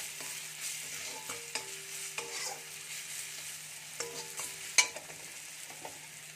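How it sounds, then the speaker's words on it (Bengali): Cumin and turmeric powder with chopped green chili fry over a low flame, giving a quiet sizzle with a few light stirring taps and scrapes, close and fairly soft, with no voices. "গ্যাসের ফ্লেমটা লো করে এবার মশলাটা একটু ভেজে নেব।"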